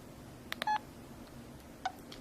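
Phone keypad dialing tones as a call is placed on speakerphone, a few quick beeps in a cluster followed by one more tone, faint against a quiet background with no voices.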